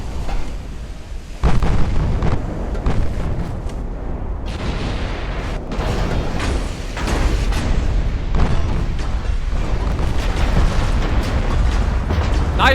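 Naval guns fire and shells strike ships in Ultimate Admiral Dreadnoughts, a loud continuous run of booming blasts and impacts that layer over one another with no pause.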